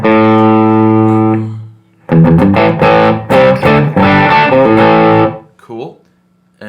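An electric guitar through the Minotaur distortion effect on a Line 6 Helix processor rings out a loud sustained chord, then a string of driven, punchy notes, ending in a brief decaying tail.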